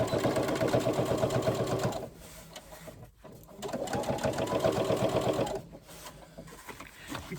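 A domestic sewing machine top stitches the seams of a backpack, humming and clattering up close in two runs with a short pause between them.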